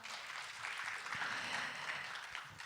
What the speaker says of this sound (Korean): 다시 한번 EBS 최홍규 연구위원님께 큰 박수 부탁드립니다.